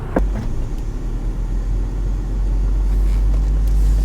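A Land Rover Defender crawls slowly off-road with traction control working, its engine a steady low rumble that swells slightly toward the end, with no talking.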